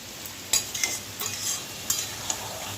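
Coriander chicken curry frying in a pan is stirred with a utensil, giving a soft sizzle with several distinct scraping clicks at irregular intervals.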